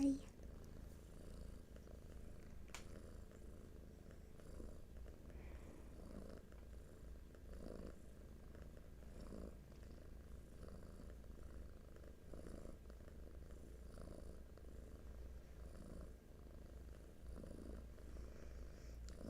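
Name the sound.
cats purring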